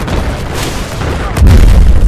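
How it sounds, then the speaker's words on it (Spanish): A deep, booming explosion erupts near the end after a rumbling stretch, loud and heavy with low-end thunder, in Battlefield 4 gameplay. "Dio la explosión brutal."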